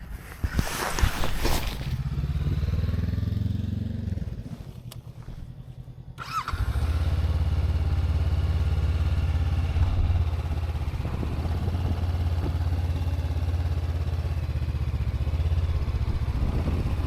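A Honda NX500 motorcycle starting off and being ridden: a brief mechanical clatter and rev, a pause, then a steady mid-pitched engine drone that holds loud and close for the rest, with no talking.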